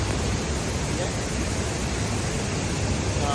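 A Konkan waterfall near Lanja, Ratnagiri, rushes close by as a loud, unbroken roar of falling water that barely changes in strength.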